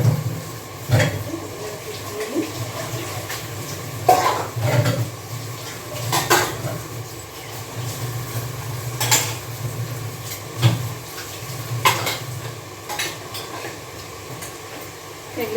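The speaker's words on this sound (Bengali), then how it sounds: "আর এখানে খানিকগুলো বাসন বেসিনে ভিজিয়ে রেখেছি, সেই বাসনগুলো ধুয়ে নেব" Dishes and pots being washed in a sink basin after soaking, with repeated clatters and clinks of crockery and metal at close range over a steady background hum, no talking.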